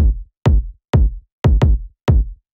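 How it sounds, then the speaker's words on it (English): Punchy, smacky kick drum sample heavy in low end, six hard hits in an uneven pattern, each short and booming with a quick decay into silence. "Nasty, smacky kick that's got plenty of lows in it"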